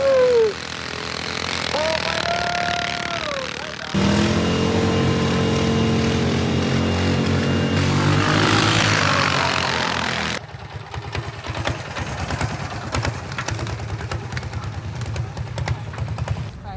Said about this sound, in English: We've got this engine, this Kubota engine, which is probably knocking out upwards of 40 horsepower